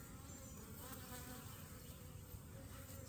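Honeybees buzz steadily inside a freshly settled hive, a dense, continuous hum with a soft, close texture, faint in level but unbroken, with no voices over it.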